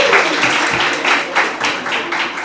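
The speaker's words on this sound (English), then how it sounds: "Let's clap for him." An audience applauds a celebrated Nollywood actor at a gathering, with bursts of clapping and cheering close by that swell and rise unevenly across the moment.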